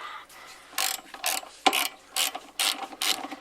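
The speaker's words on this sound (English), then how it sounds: "Go ahead, wrench it in there." Ratchet wrench tightening a part on a 1993 Fox-body Mustang, several short bursts of rapid clicking separated by brief pauses, close and clear with no talk.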